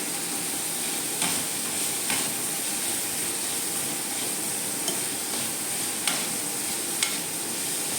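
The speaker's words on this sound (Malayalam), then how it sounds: "സവാള നന്നായിട്ടൊന്ന് വഴറ്റിയെടുക്കാം നമുക്ക്." Onions sautéing in hot oil in a pan, with a steady, dense sizzle throughout and a few faint spoon taps scattered over it, close and even in level.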